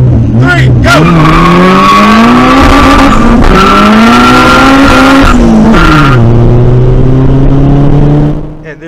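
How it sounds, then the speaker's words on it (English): Turbocharged B-series drag race car launching with loud, continuous engine roar and screeching spinning tires, rising and falling in pitch over several seconds before cutting off abruptly near the end. "my tires are spinning too much, they were loud"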